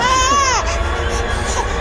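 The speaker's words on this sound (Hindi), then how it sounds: "अरे बच्ची रो रही है, तुमको दिख नहीं रहा क्या?" A baby girl lets out a short, loud, wavering cry that fades into whimpering within two seconds.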